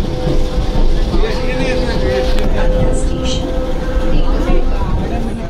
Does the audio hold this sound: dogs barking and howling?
no